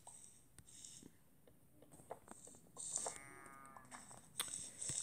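Blocky cows in the game Multicraft moo a few times, faint and low in level, with short clicks and game noises scattered around them and no talk.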